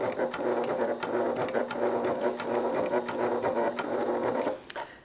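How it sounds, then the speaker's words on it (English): Close up, a sewing machine stitches a crossbody bag with a continuous motor drone and a quick, even needle pulse. It keeps going for nearly five seconds before slowing to a stop. "we're going to turn and stitch in the other direction"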